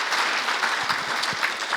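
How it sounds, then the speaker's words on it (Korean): Audience at a Rotary leaders' workshop on membership growth applauds steadily, a dense, even wash of clapping from a room full of people with no voices over it. "박수 한번 좀 쳐주세요."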